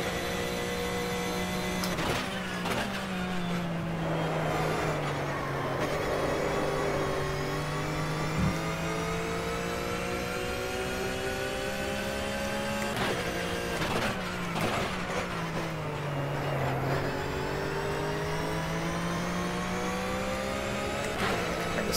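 Flat-six race car engine in the rFactor sim at Bathurst, a steady droning howl with rising and falling pitch through gear changes and downshifts, continuous and fairly loud with no talking.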